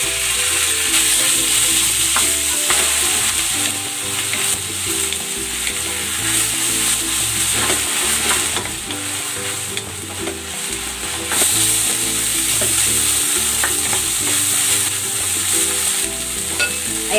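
Beef sizzles and fries steadily in a hot pan during a beef and onion stir fry, a loud continuous crackle with occasional stirring scrapes, no voices.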